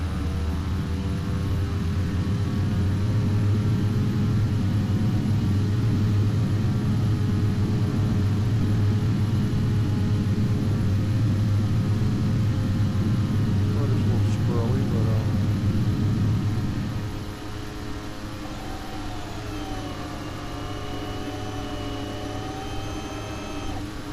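An airplane takes off and climbs with a loud, sustained engine roar and rumble that drops to a quieter steady drone partway through, while a voice briefly talks over it.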